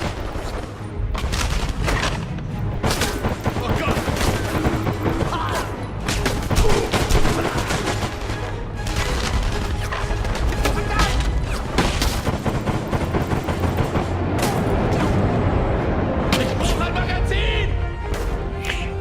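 Dense, continuous gunfire from the video game Enemy Front, with rapid overlapping shots and booming blasts filling the clip at steady loudness and no voice standing out.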